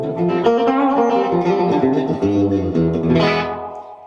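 Electric guitar through a JMK Hamlet delay pedal set for a funky slapback, giving a spring-reverb-like splash; chords and single notes repeat in quick echoes, loud and close throughout.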